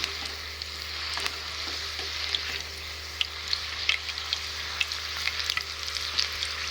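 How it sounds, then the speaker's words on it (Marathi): Green chillies frying in hot oil make a continuous crackling sizzle with scattered pops and spits, close and even in loudness throughout, with no voices. "छान अशी तळून घ्यायची मिरची"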